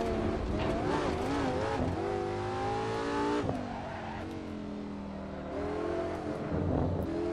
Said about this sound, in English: Pretty nice engine sounds, I've got to say. It's a V10, of course, so of course it's going to sound nice.